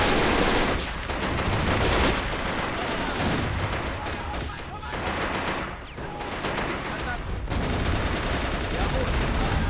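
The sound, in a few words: gunfire in the video game Men of War: Assault Squad 2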